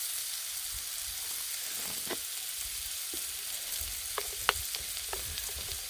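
Jackfruit fries in avocado oil on a flat griddle with a steady, moderate sizzle, broken by a few sharp pops and scraping stirs.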